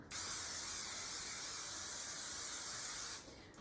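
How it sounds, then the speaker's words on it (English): Cooking spray hisses onto a metal baking pan in one continuous, close, steady burst lasting about three seconds before stopping abruptly. "Spray this a little bit over here."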